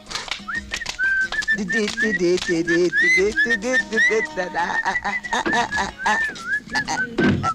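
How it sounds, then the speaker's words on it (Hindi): A steady, shrill whistle tone runs through a comedy scene from an Indian film, sustained and fairly loud over busy background music and voices. "सीटी बज गई, सीटी बज गई, आ रहा हूँ।"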